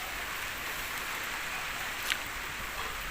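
Rain falls steadily during the rainy season, a faint, even hiss of drops on surfaces that holds without a break for a few seconds.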